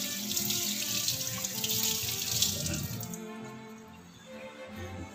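Used kitchen utensils are washed under a running tap, a steady hiss of flowing water splashing into a sink that eases off partway through, close and without talk.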